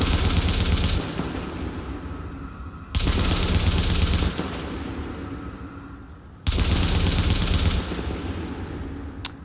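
Automatic weapon in a third-person shooter video game firing in sustained loud bursts, three long strings of rapid shots each starting with a sharp onset, close and continuous with no talking.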